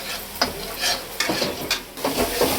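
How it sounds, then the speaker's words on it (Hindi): Spice masala roasting in a pan for chole, short bursts of sizzling and stirring scrapes with brief utensil clinks, moderately loud with no talking. "ये भूज रहा है मसाला"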